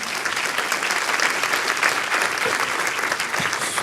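A church congregation applauding during a worship service, a dense, lively burst of many hands clapping that holds steady and fairly loud throughout.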